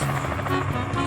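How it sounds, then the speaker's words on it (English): Fairground helicopter ride flying nearby at a railroad days event, a steady loud rotor and engine drone filling the short stretch with no talk. "sorry about the helicopter noises."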